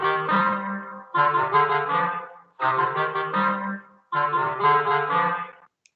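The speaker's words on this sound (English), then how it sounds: "the woodwind family, which has piccolo, flute, clarinet, oboe, and bassoon, and that sounds like this." An orchestral woodwind section of piccolo, flute, clarinet, oboe and bassoon plays four loud, sustained phrases separated by short pauses, the blended tones steady and close with no talking.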